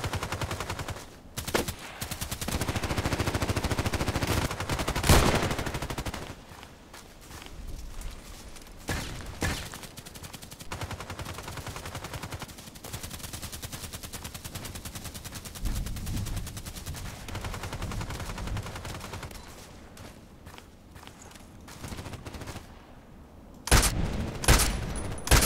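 Gunshots in the online shooter Contract Wars on the Interchange and Old Sawmill maps crack out sporadically over a long stretch, with single shots and short bursts at varying distances, some loud and close, others fainter.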